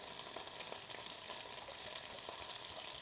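Butter melting in rapeseed oil in a pan, with a steady, close frying sizzle and soft crackle that holds without a break.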